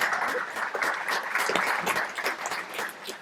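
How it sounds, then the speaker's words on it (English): A crowd of cadet ceremony attendees applauds steadily, a dense wash of many hands clapping at even loudness throughout with no pauses. "let's give them a round of applause"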